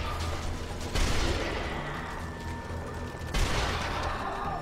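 Rapid gunfire crackles in dense bursts over a constant mechanical din, with two sharper blasts standing out loud and close, in the video game Sniper Elite: Nazi Zombie Army.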